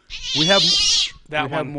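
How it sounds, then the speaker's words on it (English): A cat meow, drawn out and nasal, followed a moment later by a shorter second meow, loud and close, with people talking around it on a live morning radio show. "That was a cat noise."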